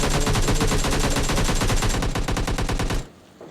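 Automatic gunfire from PUBG Lite comes as a rapid, loud, even burst of shots lasting about three seconds and then stops abruptly.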